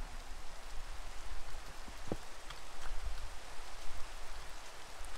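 Steady Minecraft rain hissing down across the whole stretch, an even wash of drops with a brief sharp click partway through and no voices.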